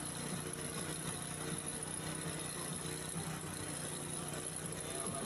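A bus engine runs at idle with a steady, continuous low rumble and high whine, close and unbroken throughout, with no change in pace.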